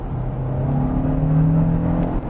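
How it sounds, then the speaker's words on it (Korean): A Hyundai Tucson Hybrid accelerating on a highway in Smart drive mode: a steady, fairly loud engine and road drone with a slowly rising whirring tone, continuous and close, with no talking. "쭉 밟는데 아무래도 가속하는데 시간은 좀 필요합니다."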